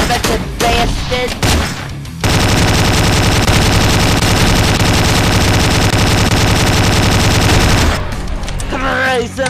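Machine gun fire in the multiplayer survival game Slendytubbies 3: a long, dense, unbroken automatic burst lasting several seconds, with shorter clatter and sounds before and after.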